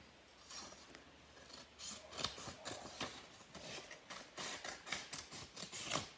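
Scissors cut through paper for a rolled-paper Superman craft, giving a steady run of close, crisp snips and rasps that come more densely in the second half.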